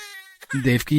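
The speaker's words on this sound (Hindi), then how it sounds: "अरे, ये तो बच्चे के रोने की आवाज है।" A newborn baby's brief, thin wailing cry, set in a retelling of Krishna's birth in a prison cell, is quickly overtaken by a narrator speaking close and loud.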